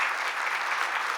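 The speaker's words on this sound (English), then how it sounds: "I want to hear the biggest applause for Jane and for Michelle and for Theodore" A brief burst of even, steady audience applause at a hospital event. Moderately loud and dense, with no voices over it.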